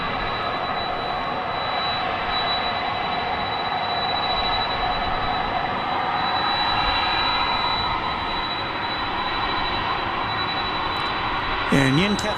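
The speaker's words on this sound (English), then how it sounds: "this is the UPS 767 that will be going to Louisville" A UPS Boeing 767 jet at DFW Airport at night gives a steady, sustained engine roar at a distance, with a thin whistling tone above it and a brief disturbance near the end.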